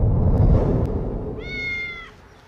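Single cat meow, clear and fairly close, following a low rumbling background with a couple of faint clicks.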